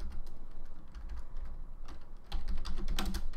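Rapid typing on a computer keyboard, close and fairly soft, with irregular bursts of key clicks that grow busier and louder toward the end.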